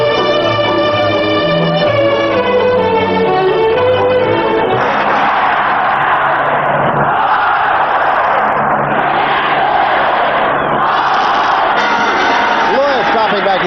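A sellout football crowd roars at the Cotton Bowl during Alabama versus Texas, a loud, continuous wash of cheering that swells throughout. Sustained tonal sound rings over the crowd at the start before the roar takes over.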